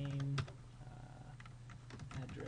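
Typing on a computer keyboard while entering address-book fields into a spreadsheet, a quick run of close, dry key clicks over a steady low hum, with a louder tonal sound briefly at the start.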